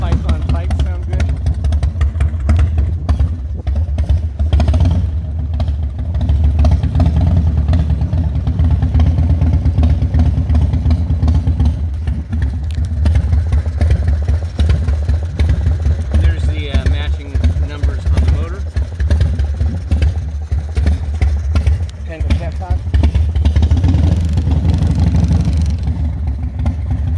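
A 1996 Harley-Davidson FXSTS Springer Softail engine idles steadily with a deep, continuous low rumble through aftermarket pipes, loud and close throughout, with faint talk over it.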